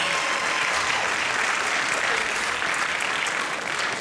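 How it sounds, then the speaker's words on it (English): A high school graduation audience in San Francisco gives the teachers a round of applause, dense and continuous clapping from a large crowd that fills the whole moment. "let's give them a round of applause."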